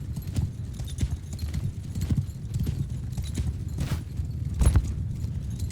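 A cavalry charge in the video game Mount & Blade II Bannerlord, with a dense, continuous rumble of many horses' hooves galloping together and a faint whinny rising out of the thunder.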